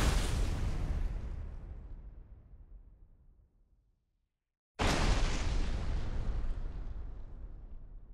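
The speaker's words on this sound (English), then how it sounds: "A video showing the explosion of the Tarnovska Dam at the Kurakov Reservoir has surfaced" An explosion at the Tarnovska Dam on the Kurakov Reservoir: a loud deep blast that slowly fades into rumbling, a short gap of silence, then a second heavy boom that rolls on and decays.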